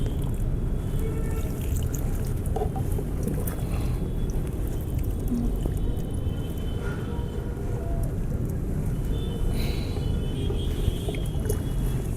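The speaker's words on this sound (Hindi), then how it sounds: "इसमें अब हम खूब सारा इसको अच्छे से पानी डाल देंगे।" Water pours steadily onto a newly planted tomato seedling in soil, a continuous loud splashing gush that lasts throughout without pause.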